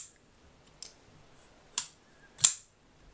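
A Ruike P-801 pocketknife gives three crisp metallic clicks spaced about a second apart while its pivot is adjusted. The clicks are close and sharp, each louder than the last, with quiet between them.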